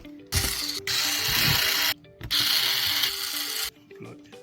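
Electric screwdriver driving four screws into a Dell Inspiron 7415 2-in-1 laptop after a motherboard replacement, heard as repeated whirring bursts separated by short pauses, close and fairly loud.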